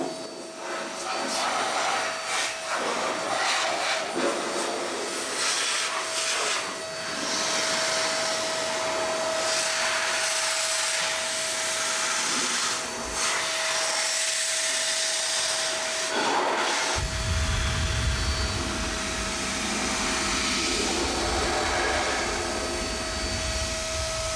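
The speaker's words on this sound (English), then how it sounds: "it's a blow dryer for your car" A powerful car-drying air blower roars steadily at close range for the whole stretch, a loud whooshing rush that deepens and grows heavier partway through.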